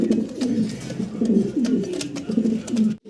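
Mondian pigeons coo steadily at close range, low rolling repeated calls overlapping one another with faint background clicks, no talking.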